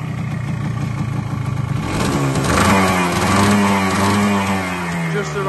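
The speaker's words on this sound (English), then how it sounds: "first couple of kicks, fired up, engine sounds very sweet" A 1990 Yamaha RXS100 motorcycle engine runs steadily close by, its buzzing note rising slightly as it is revved before settling back to a steady run.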